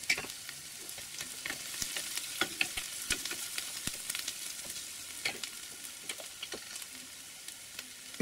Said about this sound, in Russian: Растительное масло обжариваю, делаю зажарку, обжариваю лук.